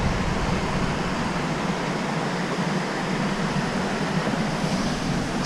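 Steady broadband rush of falling water from a waterfall, continuous and even throughout with no voices.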